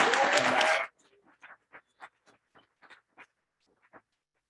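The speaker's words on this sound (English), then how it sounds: "let's give Jenna a round of applause" A short burst of applause at a business presentation cuts off abruptly, followed by a handful of scattered, faint claps trailing away.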